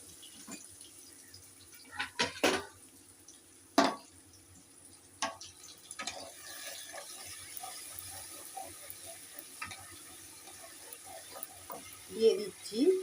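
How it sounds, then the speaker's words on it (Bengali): Tomato and papaya curry is stirred in a pan with scattered scraping clacks and soft sizzling, near and moderately loud, with a few spaced knocks of the utensil against the pan. "এবার দিয়ে এটা একটু নাড়বো।"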